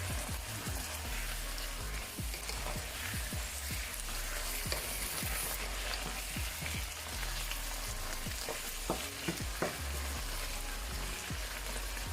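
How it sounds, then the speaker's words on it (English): Saltfish sizzles and crackles steadily as it fries in a pan for ackee and saltfish, a dense hiss broken by frequent small pops and spits throughout, close and fairly loud with no talking. "You want to let this fry up for about a minute or two"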